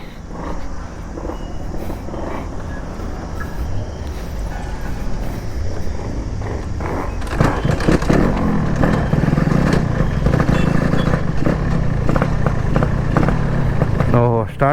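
A Yamaha RX motorcycle with an engine problem starts up and runs, its rough, loud engine noise swelling about halfway through and holding steady to the end, close by.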